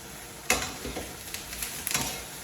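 Onions char and sizzle in a pan for chicken jalfrezi, a continuous hiss broken by a few scraping stirs of the spoon, close and fairly quiet with no talk.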